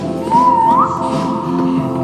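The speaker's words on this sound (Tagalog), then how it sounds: "Sipol kayo para mahanap ko." One player in a Roblox game whistles a single short, clear rising note, close and fairly loud, over a steady droning background hum.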